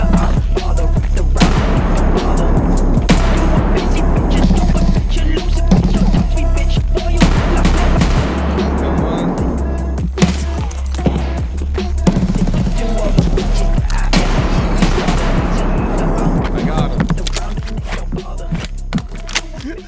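Rapid, loud gunfire from a weapon in a tactical shooter video game on the Shoreline map, dense overlapping bursts of shots running nearly continuously throughout with brief lulls.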